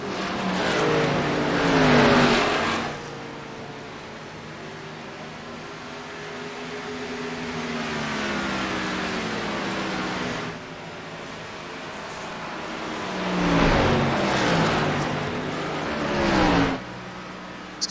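Josh Oxendine's red and white No. 63 race car comes down pit road at Nashville for four tires and fuel. Loud engine surges pass near the start and again late, with a steady engine drone between them.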